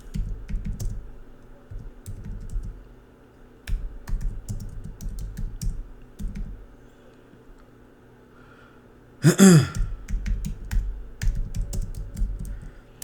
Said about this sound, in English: let me type that in